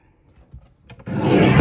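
Gold card being trimmed for a Mariachi card kit, with a few soft taps, then a close, steady rasping cut that lasts about half a second.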